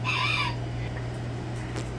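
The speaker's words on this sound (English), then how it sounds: "See, it's really a chicken." A pet rooster crows loudly and close for about half a second, followed by quiet barnyard background with a steady low hum.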